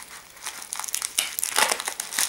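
Bubble wrap being handled while a parcel is unboxed, loud close crinkling and rustling in uneven bursts that swell and fade over a couple of seconds.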